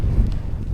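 Low rumbling wind buffeting a microphone at a motocross outing with a Gas Gas 85 dirt bike, a steady muffled roar with gusty bumps throughout, close and fairly loud.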